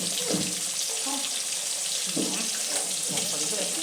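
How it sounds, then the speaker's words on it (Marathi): Bombil, Bombay duck fish, frying in a pan gives a steady, close sizzling hiss that persists evenly throughout, with faint clinks of a utensil underneath. "आता हे होतंय फ्राय."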